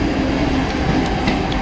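A Mumbai local train running between Byculla and Chinchpokli, heard from inside as a loud, continuous rumble with faint rhythmic wheel clatter and a steady metallic hum.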